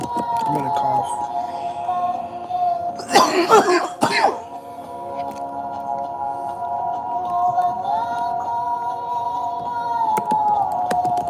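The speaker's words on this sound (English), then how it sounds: "I'm gonna cough." A burst of coughing, a few rough hacks in quick succession, loud and close over a steady background hum.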